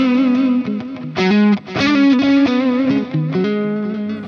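Electric guitar playing a melodic line with chords, washed in delay echoes and reverb, loud and close with a slightly distorted edge.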